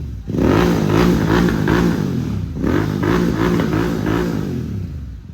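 A Royal Enfield GT650 motorcycle fitted with a Red Rooster aftermarket silencer and BMC air filter revs loudly up close, two long throttle blips with a brief dip between, its deep twin-cylinder exhaust burbling and crackling throughout.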